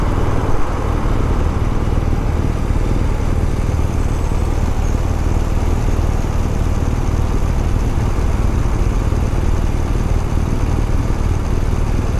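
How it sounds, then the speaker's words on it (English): A loud, steady engine drone from a Subaru WRX with a loud exhaust, deep rumbling note, continuous and close throughout in Montreal traffic, with no voices. "WRX with loud exhaust"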